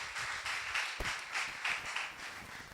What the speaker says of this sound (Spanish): Fuerte el aplauso a Cristo en esta mañana